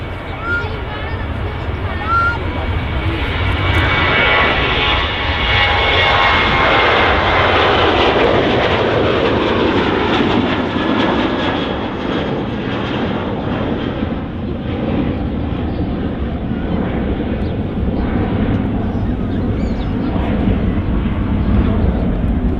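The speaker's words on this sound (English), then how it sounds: "Ryanair 737 just taking off." A Ryanair Boeing 737 jet taking off at Manchester Airport, a loud sustained engine roar with a sweeping pitch as it climbs away, with people talking over it throughout.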